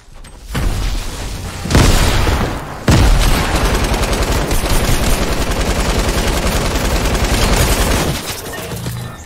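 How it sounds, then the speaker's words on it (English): Grenade blasts and gunfire in the Fortnite video game, a loud rolling volley of bangs and rapid shots filling most of the stretch after a few sharp opening bursts, with no talk. "I have to hold these grenades"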